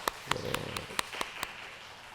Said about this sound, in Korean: 생일 축하 박수 한번 하겠습니다